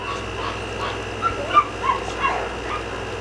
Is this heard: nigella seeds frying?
no